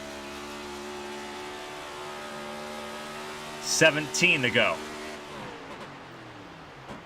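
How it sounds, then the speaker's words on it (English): Engine drone of a Mustang race car in an A2 Cup Series race at Fort Worth, steady harmonic hum, briefly dropping off as it coasts off the throttle to save fuel, while a voice speaks over it. "You can hear how much off throttle time he's spending trying to save fuel."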